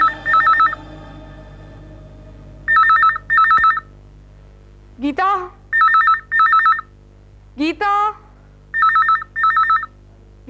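An old-style telephone bell rings in repeated double bursts, loud and near, with gaps between rings; a person calls out a name and a few sweeping tonal sounds cut in between the rings.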